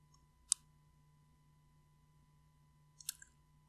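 A computer mouse gives two sharp, quiet clicks about two and a half seconds apart, the second followed by a softer double tap, while right-clicking to copy an element on a web page in a quiet room over a low hum.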